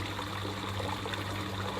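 A small stream trickles softly and steadily, faint and close, with no voices over it.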